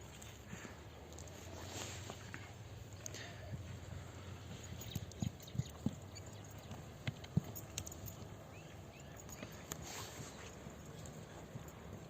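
A young Abakan-breed horse, about one and a half years old and 1.60 m tall, makes faint, scattered hoof clops on the ground against a low outdoor background.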